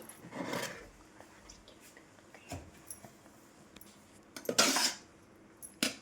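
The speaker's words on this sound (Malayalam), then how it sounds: "നന്നായിട്ടൊന്ന് ഇളക്കി കൊടുക്കാം." Metal spoon scraping and clinking against a pan while cooked fried rice is stirred, a few separate bursts of scraping spread out with quiet gaps between them.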